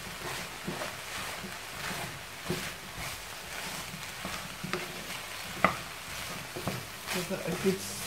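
A spoon stirs bolognaise sauce in a pan, giving soft scraping strokes over a quiet sizzle, with a few sharper clinks against the pan toward the end.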